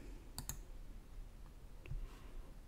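Two sharp computer mouse clicks close together near the start, then a single softer click a moment later, against a quiet room background with no talking.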